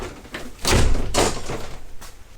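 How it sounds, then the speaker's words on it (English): A door swung shut in a hurry, a loud thud and rattle that lands close and then rings on in the room, followed by a second impact and fainter knocks, with no speech. "Quick, shut the door."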